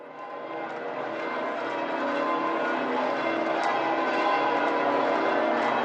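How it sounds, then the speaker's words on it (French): Bells of Saint Peter's pealing together at Sunday noon, a dense, continuous ringing heard from a distance that swells gradually louder over the square. "Les cloches de Saint-Pierre qui carillonnent un dimanche midi"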